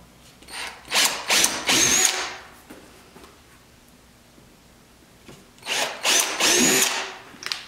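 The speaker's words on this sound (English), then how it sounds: "Now that was an eighth inch drill bit, correct?" Power drill with an eighth-inch bit boring through an aero kit bracket on a C5 Corvette, two loud whining bursts of about a second or so each, close by, separated by a quiet pause.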